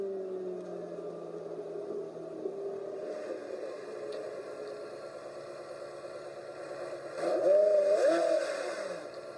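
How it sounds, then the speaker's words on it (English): A car engine runs at a low, steady idle hum, then swells louder as it revs briefly toward the end before settling again; no talking is heard. "I can't hear you over the engine sound"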